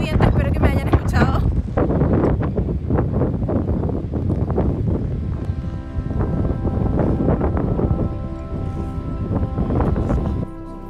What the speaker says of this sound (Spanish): demasiado viento, espero que me hayan escuchado